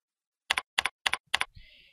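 Four crisp, evenly spaced double-clicks of computer keys pressed close up, each a sharp press and release, followed by a brief faint hiss and low thump.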